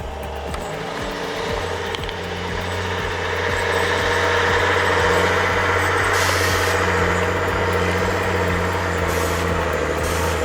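A Peterbilt 359 truck labours under a heavy load on steep, snowy terrain, its deep diesel engine droning steadily and loudly throughout, with brief hissing bursts over the low rumble.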